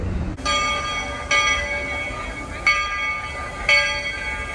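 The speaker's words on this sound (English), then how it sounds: "There's a great shot of the Walt Disney World train pulling into the Main Street station here at Magic Kingdom" Walt Disney World steam train pulls into the Main Street station at Magic Kingdom, with a steady rumbling rail background and several ringing metallic bell-like clangs repeating about once a second, moderately near.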